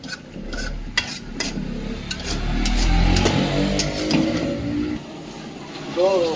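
Kadaknath chicken curry being stirred while sautéing in a pot, village-style cooking: a steady, close scraping and stirring with a faint sizzle underneath, continuous throughout, with voices talking over it.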